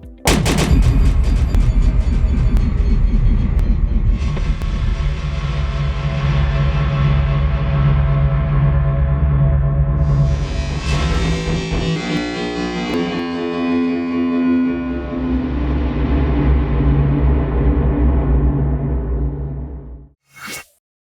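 Heavy, booming sound processed with a reverb plugin in Nuendo, with long washing reverb tails, sweeping and swelling over about twenty seconds before cutting off abruptly.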